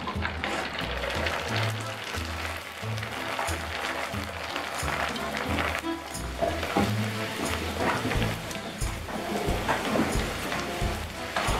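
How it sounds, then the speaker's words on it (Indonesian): Potato crackers frying in very hot oil in a home kitchen, giving a steady loud sizzle and bubbling crackle that continues throughout the clip. "Sekarang kerupuk kentangnya mau Bunda goreng."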